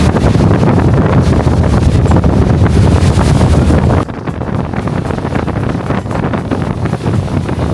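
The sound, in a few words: wind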